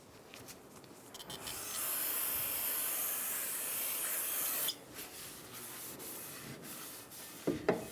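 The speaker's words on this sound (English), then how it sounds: "Take a clean rag, wipe it down." A rag rubbing and wiping a rear brake part on a 2007-2011 Toyota Camry after brake cleaner is sprayed on it, a soft hissy scrubbing held for a few seconds, quiet and close, with small clicks at the end.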